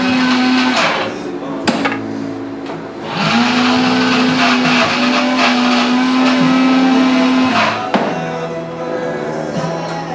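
A coffee grinder whirs loudly up close in a steady drone, pausing briefly and shifting pitch partway through.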